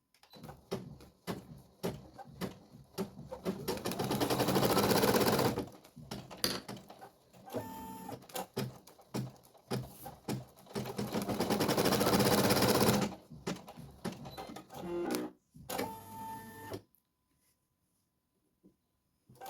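An embroidery machine stitches placement markings on a 13x18 cm hoop, running in two long rapid needle bursts separated by short stops and clicks, close and moderately loud, then falling silent at the end.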